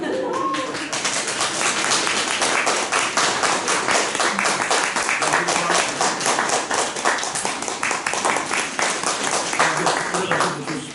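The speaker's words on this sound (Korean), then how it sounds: "제가 선물 증정할 때 여러분 다시 한번 박수해 주시길 바랍니다" Congregation applauding during a Sunday church service, with brisk, rhythmic clapping that builds quickly and holds steady and fairly loud for several seconds.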